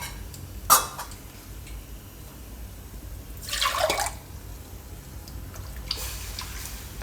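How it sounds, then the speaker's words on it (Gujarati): Water poured into a pot of Gujarati sev and ridge gourd curry makes one brief, close splashing pour midway through an otherwise quiet kitchen moment, with only a small tick before it. "તો આમાં આપણે પાણી થોડુંક વધારે જ નાખીશું એ રીતે."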